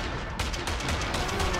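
Rapid gunfire in a video game battle, with quick overlapping shots that rattle on steadily at moderate loudness through a dense, busy background.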